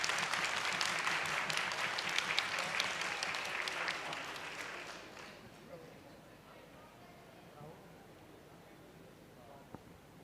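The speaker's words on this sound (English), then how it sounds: "A huge round of applause, everyone." Audience at a youth delegate conference applauding a Best Delegate Award winner, a loud dense burst of clapping that tapers off halfway through into quiet room noise with faint voices.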